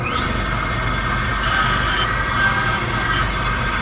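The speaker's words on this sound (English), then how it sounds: "This is my cap cutter." A connecting rod cap cutter runs with its grinding stone spinning, giving a steady, close mechanical whir and hum with a brief brighter scraping as the stone engages the cap.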